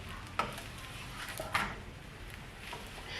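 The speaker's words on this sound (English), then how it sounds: "I'm just kind of moving the bread around in the pan." Bread being shifted around in a hot, lightly oiled pan while making pepper steak wraps: a soft, quiet sizzle with a couple of brief scraping shuffles, close and low in level.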